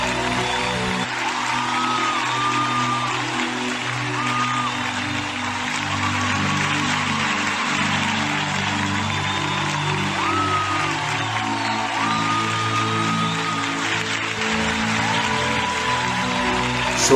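A large crowd at a Sunday mega church service in Nairobi, Kenya applauds continuously, with dense clapping, scattered whoops and cheers, and a few raised voices mixed in, sustained and fairly loud throughout.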